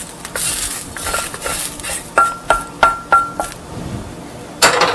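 A metal spatula scrapes sautéed ridge gourd skin out of a pan onto a plate, making a steady series of about five rhythmic scraping clinks against the pan, close and clear, with a final clatter.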